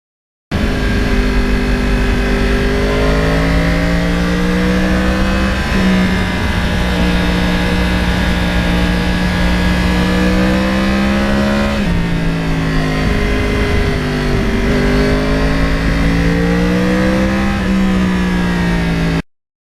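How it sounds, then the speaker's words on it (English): A 2009 Yamaha R1 crossplane motorcycle engine revs loudly and continuously, its pitch climbing and dropping through several throttle sweeps, close and alone with no talking. "That engine and the sound of it as you're riding the bike"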